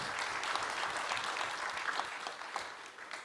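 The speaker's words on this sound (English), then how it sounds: "Can we have a round of applause for her?" Steady applause from a conference audience at a plenary session, dense, even clapping that carries at a constant level from start to finish with no voices standing out.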